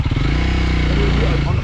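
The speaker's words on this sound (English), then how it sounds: "all I can do is the throttle right now" Motorcycle engine revving on the throttle while touring Vietnam, a loud, close, continuous pulsing rumble that rises in pitch and then settles, with a voice speaking over it.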